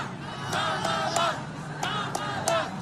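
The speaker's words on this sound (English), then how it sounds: "Why the hell are you cheering?" A crowd at a Trump rally shouts and cheers in loud, rhythmic bursts, with repeated group yells rising and falling like a chant over a constant murmur.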